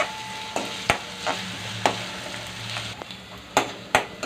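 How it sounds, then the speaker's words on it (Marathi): Chopped onion crackles and sizzles in hot oil in a pan, a steady frying hiss broken by sharp spatula scrapes and clacks throughout. "थोडा कांदा गुलाबी कलरचा करून घ्यायचा थोडा"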